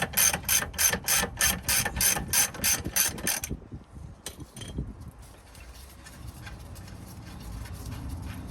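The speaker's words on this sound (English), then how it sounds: "I don't have an impact, so I'm gonna use the ratchet" A hand ratchet clicks rapidly and steadily up close on brake chamber nuts at the front axle of a Kenworth T680 truck, then stops and gives way to quieter tapping and background hum.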